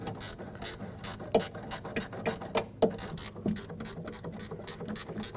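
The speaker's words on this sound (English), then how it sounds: "Tighten the lower bolts down." Ratchet clicking in quick bursts as the lower bolts on a 2006-2010 BMW 550i front window regulator are tightened, close and fairly quiet with short pauses between strokes and no voices.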